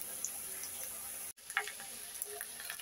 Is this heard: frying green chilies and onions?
yes